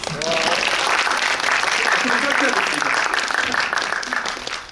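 Audience applause at a screening and Q&A event for the Korean drama series 'Since This Happened, Let's Go to the Blue House', a steady, dense clapping from a seated crowd that fills the room, with faint voices mixed in underneath.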